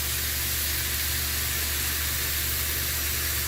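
A two-ingredient keto shell cooks in a hot pan with a constant, even sizzling hiss that holds steady throughout at moderate loudness, with no voices.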